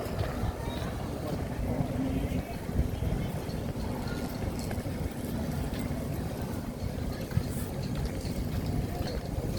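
Steady, rumbling gusts of strong wind battering the microphone outdoors on a walk, a broad continuous roar with scattered bumps, while people talk faintly underneath.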